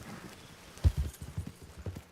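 Horse hooves clip-clop in the Red Dead video game, a short run of uneven thuds at moderate volume with one stronger hit near the start.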